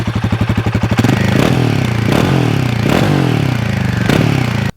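A Royal Enfield Himalayan 450 single-cylinder motorcycle cranks with a rapid starter chatter for about a second, then catches and settles into a loud, close idle, broken by several sharp revs that fall back each time.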